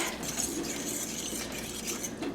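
A utensil stirs flour into gravy in a pan, a soft continuous scraping and clinking, close but quiet.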